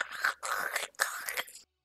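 A voice mimics bones crunching during eating, giving short crackly, breathy, whispered bursts of mouth noise in quick succession, close and fairly quiet.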